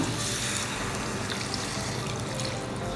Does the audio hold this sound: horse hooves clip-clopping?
no